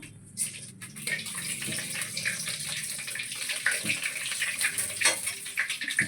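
Busy sizzling and spattering from whole spices dropped into hot ghee, with clattering and scraping of utensils mixed in, fairly close.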